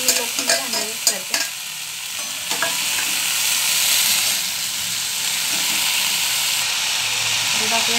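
Leafy greens frying and being stirred in an iron pan after onion and turmeric, giving a steady close sizzle and hiss with a few sharp utensil clinks and scrapes near the start.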